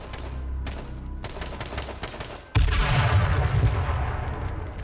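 Rapid gunfire in a multiplayer shooter video game plays as repeated bursts of shots, growing louder and denser midway and continuing as a sustained barrage, with no voices.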